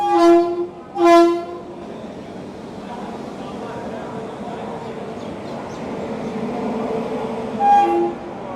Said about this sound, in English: So this is our train. It's arriving at 7:38